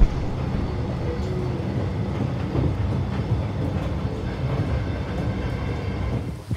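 A suburban Melbourne train runs steadily along the Glen Waverley line, a continuous loud low rumble of wheels and carriage noise with faint rattles and no voices.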